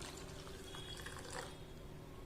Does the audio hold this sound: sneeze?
no